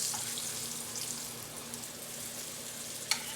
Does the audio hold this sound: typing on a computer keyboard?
no